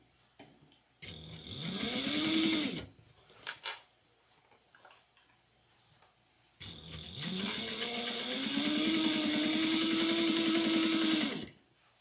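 Sewing machine top stitching a shoulder bag, two loud motor runs that wind up and hum steadily, a short one and then a longer stretch of several seconds, with small clicks between.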